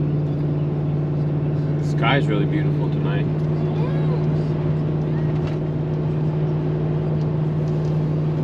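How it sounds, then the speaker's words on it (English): A small Ford F-150 pickup towing a maximum-weight trailer loaded with toys down a steep 6% grade hill, its steady low engine drone running close and constant beneath a person talking. "Gonna see how the truck goes down the hill with these toys on the trailer"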